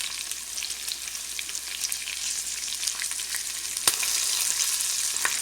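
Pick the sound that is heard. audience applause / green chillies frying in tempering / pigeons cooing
green chillies frying in tempering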